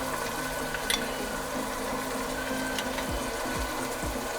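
Spiced masala with green chilli and yogurt fries in a pan for chana pulao, giving a steady, soft sizzle with a few scraping stirs near the end.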